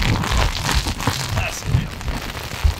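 A strong wind and rain storm sweeps across a golf course during a round. Heavy gusts buffet and rumble close to the microphone, and rain patters through the roar, loud and continuous.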